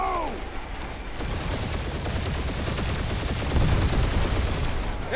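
Incoming gunfire in Marvel's Guardians of the Galaxy crackles as dense, continuous rapid shots, loud and close, beginning abruptly after a brief quieter stretch with a voice.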